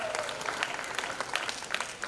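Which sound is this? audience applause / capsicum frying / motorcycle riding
audience applause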